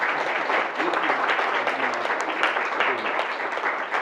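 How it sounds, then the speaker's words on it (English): An audience at a community talk on sickle cell gives a massive round of applause, loud dense clapping filling the room continuously, with faint voices mixed beneath. "I want to have a massive round of applause from everyone."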